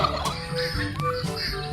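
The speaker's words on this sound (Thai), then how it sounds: "มันเป็นไก่ค่ะ เรียกว่าไก่งวง" Turkeys gobble close by on a farm in Wang Nam Khiao, Thailand, their rapid warbling calls overlapping in a short burst over faint outdoor background noise.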